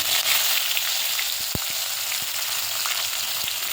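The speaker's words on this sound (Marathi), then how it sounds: "त्यामध्ये राई टाकते, जिरं, हिंग, कढीपत्ता" Mustard seeds, cumin, asafoetida and curry leaves sizzle and crackle steadily in hot oil for rava upma, a dense close frying hiss with a few sharp pops.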